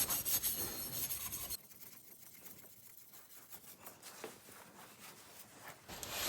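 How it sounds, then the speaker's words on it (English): Metal parts of a 1967 Triumph T100C motorcycle being scrubbed after a WD-40 cleaning, giving a soft, steady rubbing rasp up close, louder at the start then quieter and continuous. "I've been scrubbing away on this thing, starting to look really good"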